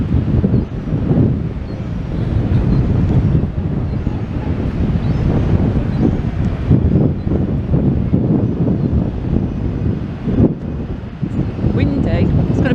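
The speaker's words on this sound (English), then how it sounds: "It's going to be a windy ride on the Starflyer for sure" Steady, loud wind buffets the microphone throughout, a dense low rumble with gusty surges and no speech.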